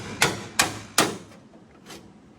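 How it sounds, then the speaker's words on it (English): A bone chisel is hammered to cut away the inner fender of a 1000hp TrailBlazer, giving three sharp metallic strikes in steady rhythm and then a fainter fourth hit, close and loud. "My man got out the bone chisel to get out the rest of the fender."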